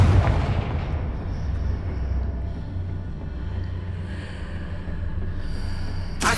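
A Confringo explosive spell blast in the Hogwarts Legacy video game, a dense continuous booming rumble with a sharp crack at the end, loud and close, no talk.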